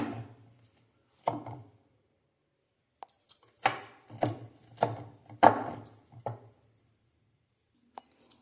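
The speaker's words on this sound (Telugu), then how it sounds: "కొత్తిమీర కూడా కట్ చేసుకుంటున్నానండి" Knife chopping coriander leaves on a board at home: about ten sharp, separate chops in irregular bursts, close and crisp, with short pauses between them.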